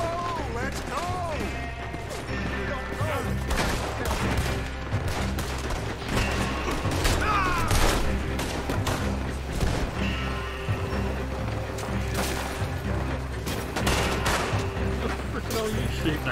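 A Red Dead Redemption 2 shootout rattles with dense, continuous gunfire: rapid rifle and pistol shots, crashes and impacts, with shouted voices and game music mixed underneath throughout.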